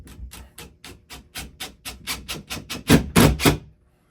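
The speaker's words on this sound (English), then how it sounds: "Got my impact driver." An impact driver hammers a screw into a wooden wall stud in a fast burst of regular sharp rattling impacts that grow louder toward the end, then stop abruptly.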